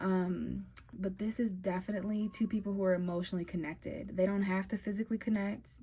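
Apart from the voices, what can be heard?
No everyday noise stands out behind the speech.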